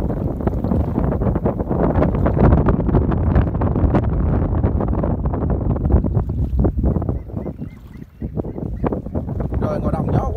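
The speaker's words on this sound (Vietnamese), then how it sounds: "Trời ngoài đồng gió quá các bạn ơi." Strong wind buffets the microphone in loud, continuous gusts across an open rice field, with brief moments of easing; a voice may be faintly present beneath the roar.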